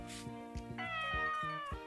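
A cat meows in the farming video game Story of Seasons: Pioneers of Olive Town, giving a drawn-out, rising meow over a looping game melody with steady rhythmic plucked notes.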